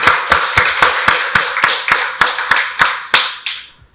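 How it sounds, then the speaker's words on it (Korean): A church congregation applauding during a Sunday worship service, about a dozen sharp rhythmic claps in unison that stop abruptly, loud and close. "박수로 하나님께 영광 돌리겠습니다"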